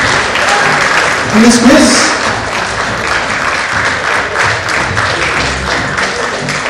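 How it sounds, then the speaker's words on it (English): Applause from an audience at a corporate business quiz, steady clapping throughout with a voice speaking over it. "Please give them a round of applause"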